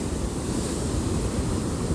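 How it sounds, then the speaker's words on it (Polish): Ocean waves break at a Gold Coast beach, a loud, steady wash of surf with some wind rumble on the microphone and no voices. "jakie fale. Zaraz mnie porwie."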